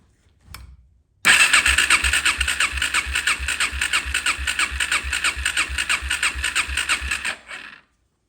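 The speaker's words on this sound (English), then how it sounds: "Let's go ahead and give it one more crank." A Suzuki LTZ 400 ATV engine cranking over on the starter during a compression test, a steady rapid rhythmic whirring chug lasting about six seconds after a brief click, loud and close, then cutting off, no talking.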